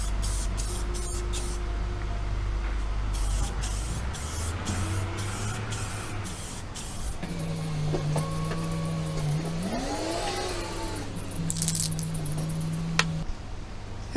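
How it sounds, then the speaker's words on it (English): An aerosol spray can hisses in long continuous bursts while painting an arcade control panel, with short pauses, a faint hum and some handling clatter between passes. "Let's continue on with our spraying."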